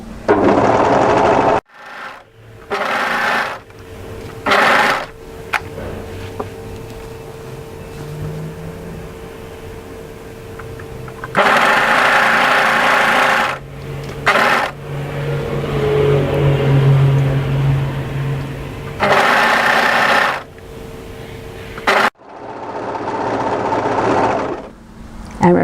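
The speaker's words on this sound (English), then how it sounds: "make sure when you overlock that you overlock with all 3 of those edges together" Overlocker stitching three fabric edges together on a dolman batwing top, running in several fast whirring bursts of a few seconds each, separated by quieter pauses with faint handling noise.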